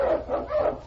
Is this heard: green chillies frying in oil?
no